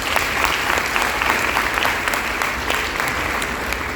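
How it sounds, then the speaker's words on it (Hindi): A business gathering at a resort bursts into loud, continuous applause, a dense wash of many hands clapping steadily with no speech over it. "एक बार जोरदार तालियां"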